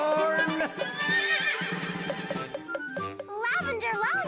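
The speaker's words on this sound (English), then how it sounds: "Lavender Lollipops, is that your fire-breathing horse?" A cartoon horse gives a loud, wavering whinny among other animated sounds, with children's voices talking over parts of it.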